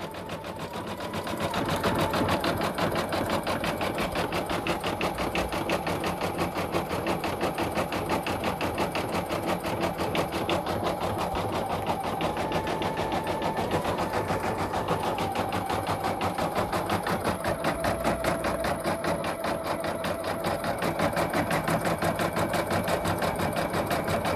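Brother VE2200 single-needle embroidery machine stitches a hat in a hat hoop, a fast, rhythmic mechanical chatter that runs steadily and fairly quietly at close range, starting up after a short pause.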